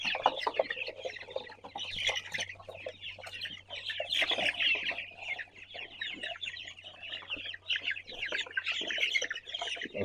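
Broiler chickens in a poultry house cluck and chirp continuously, many birds overlapping at close range over a low steady hum.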